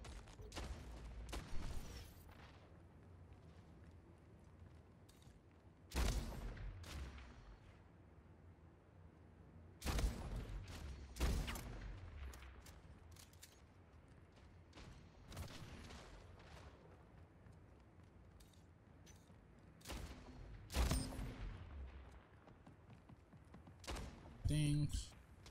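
Shotgun blasts from the Splitgate arena shooter, a few sharp broadband bangs spaced several seconds apart over a low game backdrop, with a closer punchy burst near the end.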